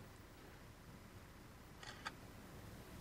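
A phone camera app's shutter fires on a Windows Phone, giving two quick faint clicks close together over a quiet background hum, with no talking.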